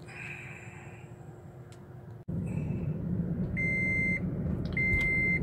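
Electronic beeps sound inside a taxi in two steady tonal bursts, loud and clear over a constant cabin rumble.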